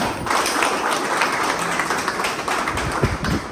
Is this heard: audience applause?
yes